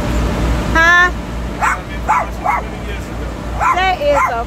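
A big dog of a breed brought over from Russia barks in a series of sharp woofs and yips, loud and close, with people talking around it.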